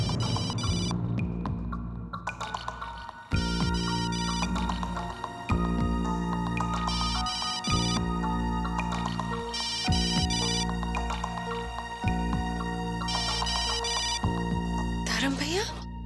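A phone call placed from a mobile rings out with a repeating electronic ringback tone in regular bursts, while voices talk over it in a household scene.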